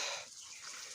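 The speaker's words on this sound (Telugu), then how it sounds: "మాకు సౌండ్ వినపడింది, ఇది అనుకుంటా సౌండ్ వాటర్ ఫాల్ది." A waterfall near Gaveswara Swamy Temple by Bhanukota in Kadapa gives a faint, distant, steady watery hiss.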